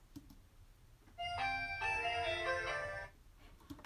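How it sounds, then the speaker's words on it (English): A short, dry, piano-like phrase of a few bright tuned notes from a cat piano sample without effects, playing quietly over a soft background hiss. "This is one of the samples from the Cat piano."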